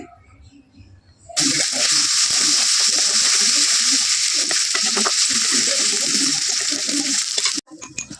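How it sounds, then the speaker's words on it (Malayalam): Onions sautéing with green chillies and curry leaves in a pan for beef varattiyathu, a loud, steady sizzle that bursts in after a quiet start and runs for several seconds, with low stirring and a voice underneath before it cuts off. "അതിലേക്ക് നമ്മൾ ഒരു രണ്ട് തണ്ട് കറിവേപ്പില ചേർത്ത് കൊടുക്കാം എന്നിട്ട് നന്നായിട്ട് വഴറ്റിയെടുക്കണേ"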